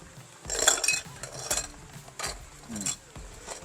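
A small plastic nitrate test vial holding aquarium water, reagent drops and a spoonful of reagent powder is shaken by hand, giving bursts of rattling clicks and clinks in uneven shakes, close and moderately loud.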